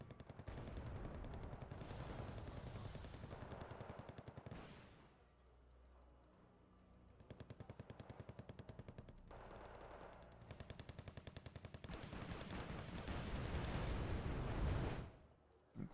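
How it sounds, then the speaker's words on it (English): Rocket impacts and bursts of gunfire from the Wargame Red Dragon combat game, loud and sustained, with rapid machine-gun rattles and booming blasts that pause briefly and then build again. "Good rocket hits overall."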